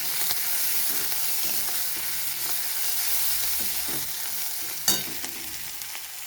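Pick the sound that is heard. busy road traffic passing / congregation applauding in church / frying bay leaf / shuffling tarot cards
frying bay leaf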